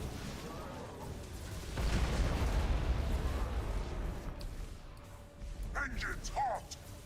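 Doomfire weapon explosions in Battlefleet Gothic: Armada 2 roll out as a dense, booming low rumble that swells midway, under a voice and game chatter with a few brief tonal effects near the end.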